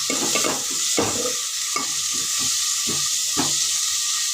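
Chopped tomatoes frying in oil in a pan for a home fish sambar, a steady sizzle with several stirring scrapes and clatters spaced through it, close and fairly loud, with no talking.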